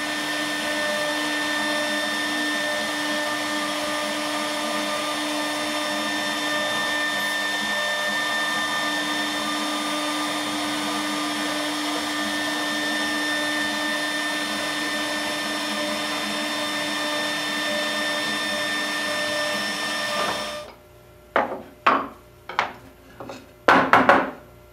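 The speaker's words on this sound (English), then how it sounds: "It took an hour and 20 minutes to carve this using a 16th inch bit." A CNC router with a 1/16 inch bit carves a wooden chair back, giving a loud, steady high whine for about twenty seconds before it cuts off, followed by a few wooden knocks and clatters.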